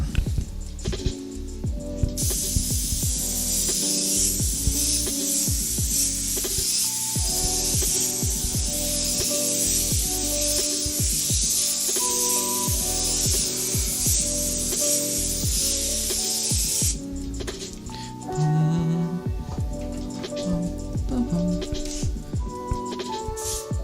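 Airbrush spraying paint for graffiti art hisses steadily and loudly, cutting off near the end, over background music with tonal notes.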